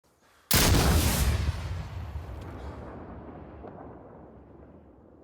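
An RPG rocket fired in the Insurgency Sandstorm video game goes off as one sudden, loud, broadband blast, then a long rumbling tail that fades slowly over several seconds.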